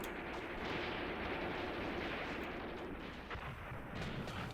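Units fire in the Graviteam Tactics war game: a faint, continuous rumble of distant artillery and gunfire, with dull thuds blending into a dense, low roar.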